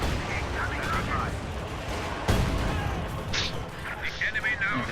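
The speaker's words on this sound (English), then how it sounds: "Infantry models getting sniped by explosives and STGs alike." Gunfire and explosions in a WWII strategy video game with infantry, Panzer Grenadiers and Panzerschreck fire: dense crackling shots and booming blasts rolling continuously for a few seconds amid busy battle noise.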